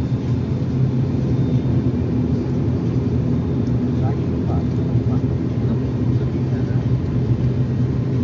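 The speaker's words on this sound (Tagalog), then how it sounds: "Palupad na yung aeroplano. Mag-take off na" An airplane taking off fills the cabin with a steady, loud low rumble that holds evenly throughout, with faint muffled sounds on top.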